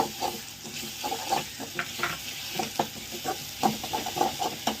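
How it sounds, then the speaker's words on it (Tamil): Onion, ginger and garlic fry in oil, with a soft sizzle under a string of quick spoon clicks and scrapes against the pan. "வெங்காயம் நல்லா வதங்கிடுச்சு கொஞ்சம் இஞ்சி பூண்டு சேர்த்துக்கலாம்"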